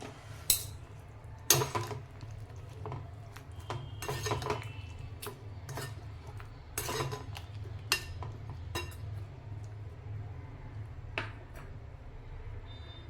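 Tamarind pulp and a lump of jaggery are stirred into a vegetable dish in a metal pot, where a spoon knocks and clinks against the sides in scattered sharp strikes over a quiet background, with no talking.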